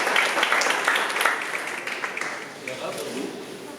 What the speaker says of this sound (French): Un peu d'applaudissements pour cette dame, s'il vous plaît.